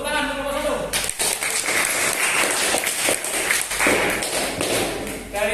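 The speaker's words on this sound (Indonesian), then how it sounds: "Tepuk tangan untuk kelompok" Applause and tapping from a classroom audience for a student group after their presentation on the Majapahit kingdom, a dense steady patter that fills the whole clip from about one second in, with faint voices underneath.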